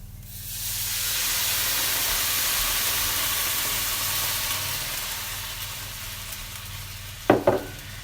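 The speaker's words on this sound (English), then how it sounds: "So next we put in some beef stock." Beef stock pours into a pan of caramelized pork ribs for Italian-style spicy ribs, giving a loud, steady hiss and sizzle that swells and then slowly eases, ending with a couple of brief knocks.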